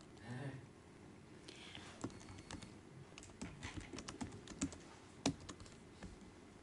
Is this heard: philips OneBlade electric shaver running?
no